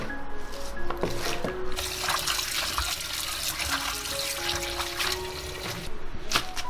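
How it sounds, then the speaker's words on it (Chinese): Water runs steadily from a tap as fresh Chinese kale (kai-lan) is rinsed by hand, with continuous splashing and trickling close by and occasional soft handling noises. "挑一些出来清洗干净"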